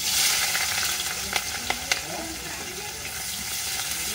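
Onion and green chillies hit hot oil in a wok, a continuous close sizzle with a few sharp clicks of a spatula stirring, no talk.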